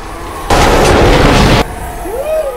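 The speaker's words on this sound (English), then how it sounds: "Yeah! Woo! Pretty fireworks!" Fireworks go off in Destiny: The Taken King as one loud, sustained burst of crackling booms that lasts about a second, then drops back to quieter game ambience.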